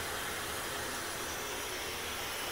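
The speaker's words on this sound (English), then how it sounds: "we have the air fryer going and the hair dryer going at the same time" An air fryer and a hair dryer run together off a Cybertruck's Powershare mobile connector adapter while camping, making a steady, loud, continuous airy whoosh of blowing fans with no breaks.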